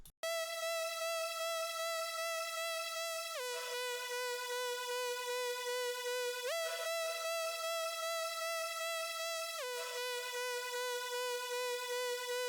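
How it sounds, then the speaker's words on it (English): A buzzy synth lead, the LDC64 lead in Serum, holds long sustained notes that glide between pitches, playing a slow melody, loud and steady with nothing else behind it. "this lead was the LDC64 lead in Serum, which sounds like this"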